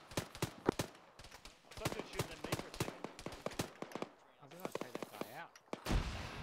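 Sharp gunshots in the military shooter Arma 3, set on Malden with Australian armed forces, crack out in irregular close bursts and single reports, followed by scattered distant fire, with voices talking over parts of it.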